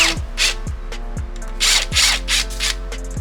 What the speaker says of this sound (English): you can just take the socket off of your drill or your ratchet and bring them off like this